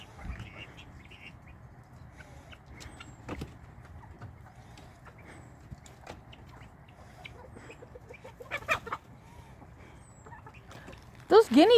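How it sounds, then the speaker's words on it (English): Chickens clucking in a farmyard alongside guinea fowl, scattered soft clucks and calls throughout, growing louder and busier near the end, with people talking over them. "There's my favorite chicken right there."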